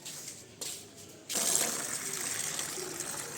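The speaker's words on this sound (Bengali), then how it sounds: "চলো গাছে জল দিয়ে নিই।" Rice-washing water being poured onto garden plants: a brief faint trickle, then a steady splashing gush of water that runs on for a couple of seconds at moderate loudness, without talk.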